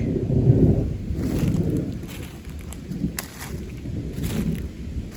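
Thunder rumbles low and steadily outdoors beside a historic streamside stand of old trees, a broad continuous roar with a few faint crackles and no talking.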